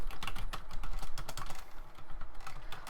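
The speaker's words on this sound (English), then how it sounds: "Now the keys themselves, they press down really nicely" Rapid, dense clacking of keys on a Wolf Claw Devour gaming keypad for PC, pressed in fast overlapping strokes, heard up close and alone.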